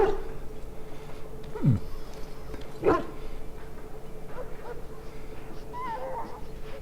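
A Mabari war hound in Dragon Age: Origins, sick after swallowing darkspawn blood, gives a few whimpering yelps and short barks among low background game ambience, with no talk over them.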